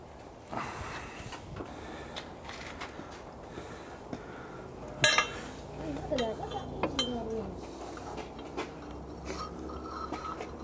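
Metal nuts and bolts clink in small bursts as they are handed over during a J. A. Vance planer/matcher restoration, light metallic chinks scattered through a workshop with faint background noise and people talking.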